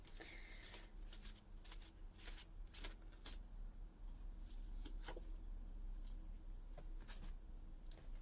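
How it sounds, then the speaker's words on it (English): Messages of Light oracle card deck shuffled by hand, a close, steady run of crisp riffling slaps and flutters repeating for several seconds, no talk. "I'm going to pull a card or two from the messages of light"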